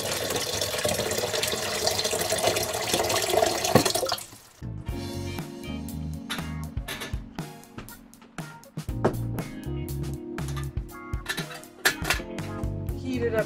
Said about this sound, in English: All you have to do is add boiling water to it.